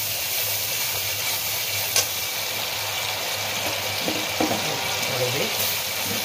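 Hilsa fish pieces go into hot oil for a mustard hilsa dish, making a dense, steady sizzling hiss that fills the whole clip, with a couple of faint clicks of utensils.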